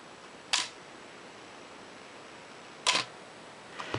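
Canon AE-1 film camera shutter fired at a 2 second exposure: a crisp opening click, then about two seconds of quiet, then the closing click, close and clear against a faint room hiss, with a further soft click at the end.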